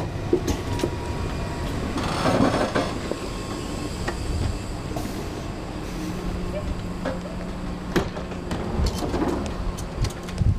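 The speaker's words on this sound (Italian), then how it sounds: "Alla stazione di Ginevra, treno da Ginevra a Montreux." A passenger train runs from Geneva toward Montreux with a steady rumbling, rattling interior roar and occasional clacks over the rails, constant and fairly loud throughout.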